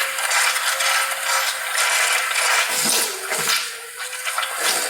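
Water rushes steadily through the passages of a 1962 AMC Rambler engine block being flushed out, a loud, continuous hissing gush that briefly gurgles and sputters near the end.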